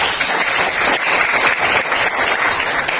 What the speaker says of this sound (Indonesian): Tepuk tangan sekali lagi bagi Bapak.